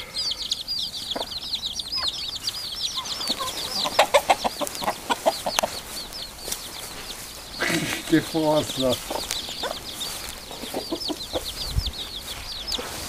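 Free-range chickens, chicks with their brooding hen, and a rooster cluck and call close by in a farmyard, with repeated short clucks and squawks and a burst of wing flapping. A person talks over the birds throughout.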